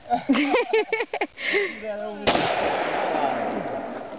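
After a short spoken exchange, a single sharp gunshot cracks outdoors and leaves a long, noisy wash of sound trailing behind it.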